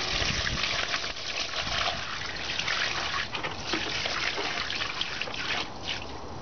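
Water pouring into a container while play sand is washed, a steady gushing trickle with splashing and dripping texture that continues unbroken, close and fairly loud.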